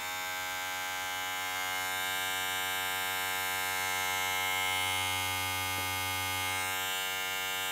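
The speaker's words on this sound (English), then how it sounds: "just to listen the motor inside if it's noisy or quiet" Motor of BESTBOMG professional cordless hair clippers running continuously, a steady close-up electric buzz with a strong hum that holds even throughout, alone without speech.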